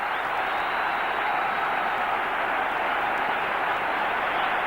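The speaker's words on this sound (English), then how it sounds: "And the crowd very appreciative." A cricket crowd applauds Azharuddin's innings in a 1998 Test against Australia, sustained dense clapping and crowd roar from a large stadium, loud and unbroken throughout.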